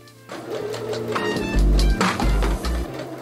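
A sewing machine stitches across a pinned, ironed-down section of a dress in short loud bursts of rapid motor hum, close to the microphone and heard alone.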